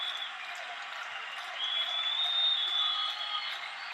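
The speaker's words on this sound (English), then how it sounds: "They're clapping for you, Gotti." An audience claps on a talk show, a soft, even patter of many hands that swells slightly midway, heard at a distance with a faint high whistle-like tone over it.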